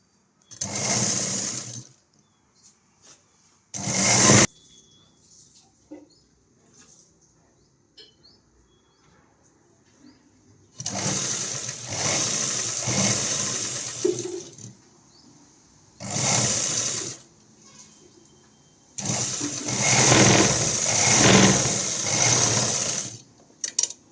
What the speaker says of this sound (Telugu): ఇలా అయితే మళ్ళీ తిరగేసి ఇంకో స్టిచ్చింగ్ వేస్తున్నాను.